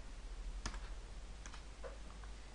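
A few sparse, quiet clicks from a computer keyboard while C++ code is typed, spaced irregularly over a faint steady background hum.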